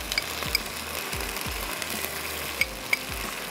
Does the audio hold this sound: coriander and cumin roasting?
yes